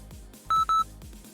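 Two loud, sharp electronic beeps from a HIIT workout timer in quick succession, each a steady high tone, over a low background hum.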